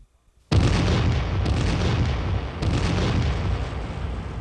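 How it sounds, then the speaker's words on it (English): Heavy artillery bombardment of a hill at the Gettysburg battlefield, a sudden loud boom followed by sustained rolling explosions with two further blasts, no talk. "Southern artillery bombarded the hill."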